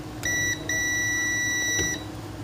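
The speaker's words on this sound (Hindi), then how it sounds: "ये बीप की आवाज़ आनी चाहिए" A continuity tester beeps while an ECM's coils are being checked, giving two clear steady electronic tones, the second longer, close and loud over a faint hum.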